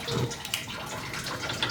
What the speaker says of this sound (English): the water has gone off as well, but we've just got this dribble